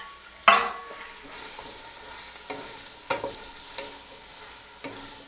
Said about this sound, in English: So we let that saute a little bit.